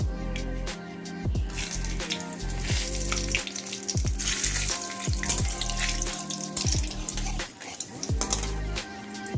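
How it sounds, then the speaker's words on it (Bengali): A bay leaf and two dried red chillies hit hot oil for a meat curry and crackle loudly. A dense sizzling hiss is broken by repeated sharp pops and spits. "তেলটা গরম হয়ে গেছে তেজপাতাটা দিয়ে দিচ্ছি আর দুটো শুকনো লঙ্কা"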